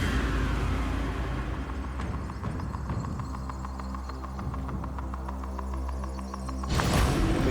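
A Tipping Point coin pusher machine on a TV game show runs with a steady low mechanical hum and a rhythmic ticking pulse, close and continuous, ending in a brief louder burst.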